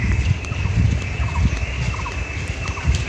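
Several birds call intermittently from a dense bamboo jungle in a village, short repeated chirps over a constant hum and a thin high whine.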